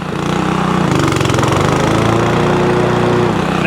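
A lawn mower from a barn find, stored for five years, runs flat out at full throttle with no idling, a loud steady engine drone holding strong and close throughout.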